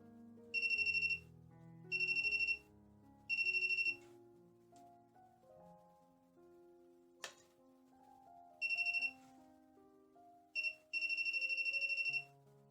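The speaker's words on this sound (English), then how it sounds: "when I touch the magravs generator, the voltage tester is ringing" A voltage tester held against a Keshe magravs plasma generator gives repeated loud, shrill electronic beeping bursts in short groups with pauses, over faint background music.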